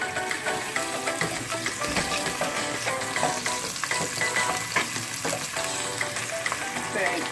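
Onion sizzling and crackling loudly in a hot pan for stir fry noodles, a constant close frying hiss with stirring scrapes and small pops throughout.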